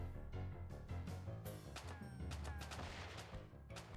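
A gunfight inside a chapel in the game Suikogaiden Vol. 2, with bullets tearing through wooden benches: dense, rapid shots and sharp impacts crackle without pause, loud and close.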